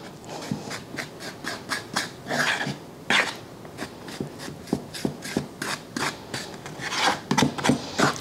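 A fork scrapes and mashes Crisco into flour in a bowl for fried apple pie dough, giving irregular rasping strokes and soft scratches that repeat unevenly at close range.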